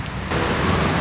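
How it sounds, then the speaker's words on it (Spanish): Heavy rain pouring down in Ibagué, Colombia, a loud, dense wash of drops that swells midway and holds steady, with a low rumble underneath and nobody speaking. "Estamos grabando el dron y empezó a llover durísimo."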